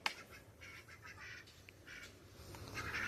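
Several ducks quack in short, scattered bursts, moderately near, over a faint outdoor background.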